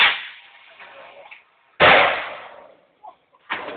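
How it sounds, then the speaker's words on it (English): A big firework bursts in a series of sharp cracks and booms, each loud hit trailing off into a hiss, with a few smaller pops between. "Big firework"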